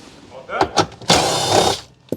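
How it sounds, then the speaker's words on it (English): A power tool zips out bolts from the steering column panel of a Chevy Trailblazer during a turn signal switch replacement, in short whirring bursts followed by a longer run close by. "And remove those two bolts."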